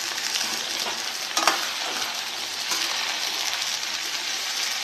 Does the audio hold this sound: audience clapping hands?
no